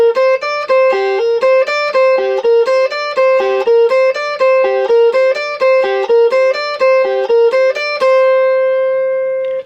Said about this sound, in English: What we'll do is we'll loop that so it'll sound like this.